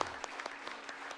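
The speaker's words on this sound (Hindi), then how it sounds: "तालियां बजाओ यार।" Audience applause at a Hindi hasya kavi sammelan poetry recital for Holi, a steady wash of many hands clapping with a few sharper individual claps standing out, moderately loud and without talk.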